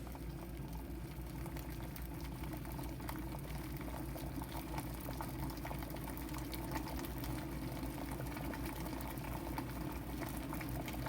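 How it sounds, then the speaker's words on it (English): An electric water kettle heating water for espresso gives a steady, continuous bubbling and hissing rumble, close and even throughout, with no voices. "the water kettle is done heating up"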